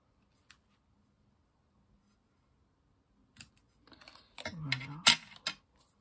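A few sharp snips and crisp cutting clicks up close, brief and irregular after a near-silent stretch.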